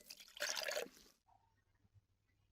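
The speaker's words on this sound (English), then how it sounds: "Now, pour some of the orange liquid onto the brick." Orange liquid poured onto a brick makes a short splashing pour lasting about half a second, followed by a faint drip and near silence.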